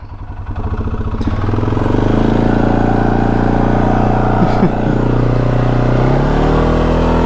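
A 2012 Mud Pro ATV engine revving hard and steady while its wheels spin in mud, a loud continuous droning roar close by, with a brief clatter partway through.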